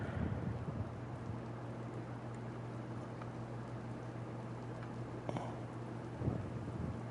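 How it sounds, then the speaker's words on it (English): Steady rain falls in DayZ, a broad continuous hiss with a low rumbling hum underneath, holding level throughout with a couple of brief louder bumps near the end. "No, it's just the rain."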